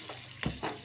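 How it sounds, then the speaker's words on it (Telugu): Beaten egg mixed with onion and green chilli hits hot oil in a pan, giving a short burst of close sizzling and crackling. "నూనె బాగా వేడయ్యాక ఈ గుడ్డు వేయాలంట"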